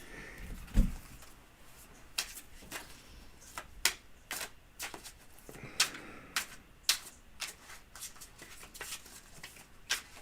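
Tarot cards are shuffled by hand in a quiet room, a series of crisp, irregular riffling snaps and soft slaps spaced out over several seconds, fairly close.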